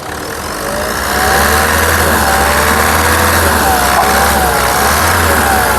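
A 2015 Ford EcoSport Trendline engine runs steadily close by, holding a loud, even drone with a low hum underneath and a slight rise in level after the first second.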